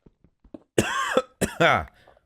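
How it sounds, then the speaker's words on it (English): A brief throat clearing, two rough guttural bursts close to the mic after a few faint ticks, with quiet room sound around them. "had to clear my throat"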